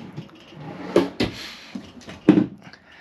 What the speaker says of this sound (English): Huge drawers, nice and smooth gliding.